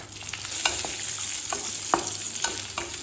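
Cashews and raisins fry in hot ghee in a kadai, giving a steady, close sizzle with soft scrapes and taps from a spoon stirring them.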